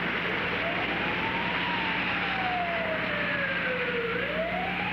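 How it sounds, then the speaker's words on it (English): A siren wails, sweeping slowly up and then down in pitch, loud and steady over a constant background rumble. "A siren in the night, the rising and falling echo of those who hurt"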